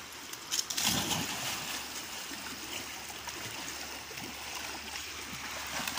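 A dog splashing and paddling through a shallow stream, a steady burble of running water with a few louder splashes near the start, no voices.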